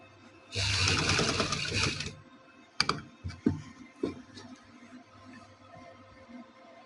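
A sewing machine stitches fabric for square armhole sleeves in one steady whirring run of about two seconds, followed by a few soft clicks and handling noises.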